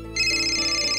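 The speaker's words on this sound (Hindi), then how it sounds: "तुम्हारा फोन है क्या?" A telephone ringtone starts suddenly and holds as a bright, sustained electronic tone, fairly loud and alone in a quiet indoor scene.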